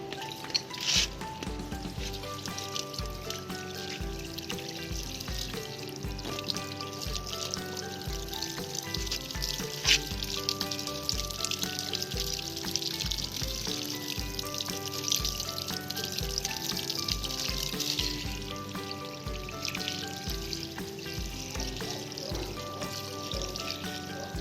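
Water is poured onto a one-inch sand layer over a repotted lotus rhizome, giving a continuous soft splashing and trickling over steady rhythmic music.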